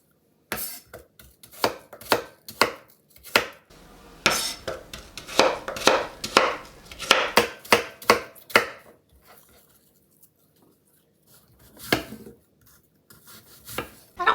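A knife chops apples for apple pie on a cutting board, with a run of sharp close knocks in quick irregular bursts, then a pause and a few scattered cuts.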